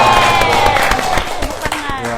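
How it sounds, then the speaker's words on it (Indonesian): An audience claps together at a city ceremony where the mayor of Palu brings home the Adipura trophy, a dense, close burst of applause that stays loud throughout with a voice speaking over it. "Tepuk tangan."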